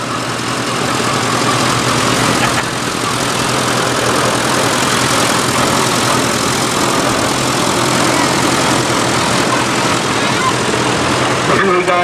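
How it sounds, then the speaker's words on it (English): A vintage tractor engine, a 1944 Oliver 60 row crop, idles and runs steadily in an outdoor tractor parade, a loud continuous low rumble throughout with a commentator talking over a loudspeaker. "are driving a 1944 Oliver 60 row crop"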